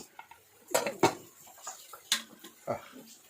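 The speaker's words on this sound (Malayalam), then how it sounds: "ഇനി നമുക്ക് ഈ കുക്കർ അങ്ങ് തുറക്കാം" A pressure cooker being opened in a home kitchen, with a series of metallic clanks and clinks of the lid and pot, loud and close, and several sharp knocks spread over a few seconds.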